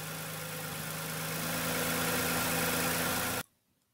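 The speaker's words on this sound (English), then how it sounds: "Start the engine to test the new spark plugs." A Lexus RX350 with a Toyota 2GR-FKS V6 idles steadily after a spark plug replacement, a smooth, even hum heard close, before the engine cuts off abruptly into near silence.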